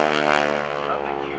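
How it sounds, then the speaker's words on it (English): An aerobatic propeller airplane flying a Cuban 8 maneuver at an airshow at NAS Oceana, its engine droning steadily with a buzzing, slightly shifting tone, loud and continuous over a brief stretch. "Okay, Bill, that's a nice job on the Cuban 8"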